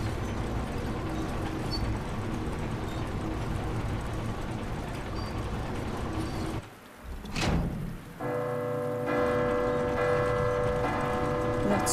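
In the Resident Evil 2 Remake, a bell rings out with sustained tonal strikes after a brief dramatic whoosh, set against a constant bed of heavy rain and ambient game sound.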